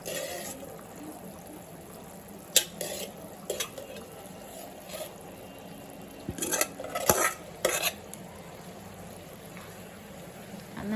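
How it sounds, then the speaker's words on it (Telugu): Cooled rice being stirred into jaggery water in a pan, with soft scraping and a few sharp clinks of a spoon against the metal, fairly quiet and with no talk. "అన్నం వేసిన తర్వాత బాగా కలపాలండి."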